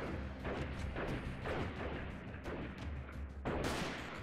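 Gunfire in the video game Freeman: Guerrilla Warfare, with repeated muffled shots and bursts in quick succession, a rough steady barrage with a louder crack near the end and no talk over it.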